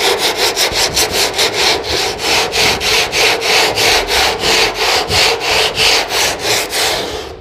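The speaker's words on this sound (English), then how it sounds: "I'm probably just going to go around and sand this whole section a little bit down" A section of a Mustang car body is sanded by hand in steady back-and-forth strokes, about two per second, close and loud, running continuously without talk.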